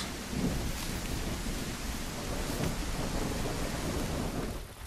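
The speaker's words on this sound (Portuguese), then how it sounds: "a chuva começou a parar" Steady rain and rolling thunder in the dinosaur survival game The Isle Evrima, a dense, continuous wash of rainfall with low rumbles throughout, heard alone with no voices.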